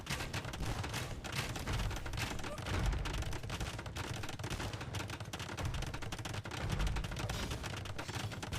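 Cannon and gunfire from a medieval strategy game battle at a castle, including a bombard cannon, form a dense, continuous barrage of overlapping booms and cracks with a rumbling low end, steady and loud throughout.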